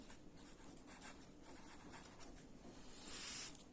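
A pen or pencil writes an answer by hand on paper while a primary-school maths problem is worked out, making soft, continuous scratching strokes close by, with a brief louder scrape near the end and no talking.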